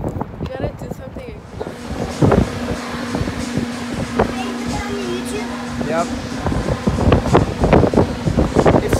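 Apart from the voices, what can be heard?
strong wind blowing into the microphone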